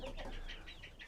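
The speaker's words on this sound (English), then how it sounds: "this is where most of all of the older chickens come now, because they want the highest spot" Chickens cluck softly in a coop, a few quiet overlapping clucks and murmurs over about a second, heard faintly against low background noise.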